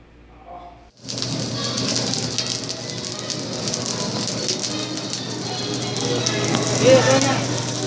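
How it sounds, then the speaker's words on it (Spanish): Carne a la llanera, Llanos-style meat, roasting and sizzling: after a brief quiet start, a dense, steady crackle and hiss of fat spitting sets in close by and continues unbroken, swelling slightly near the end. "Mire la carne como chisporretea"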